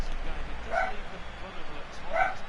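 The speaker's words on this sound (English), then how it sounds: "If you can hear my dog barking" Dog barking, two short, fairly close barks spaced about a second and a half apart over a low background murmur of football game commentary.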